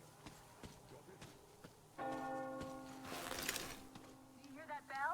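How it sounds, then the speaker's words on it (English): A bell tolls in a war video game, a resonant metallic ring that swells in and lingers over scattered game sounds and faint thuds, at moderate distance, with a brief whistling chirp near the end. "You hear that bell?"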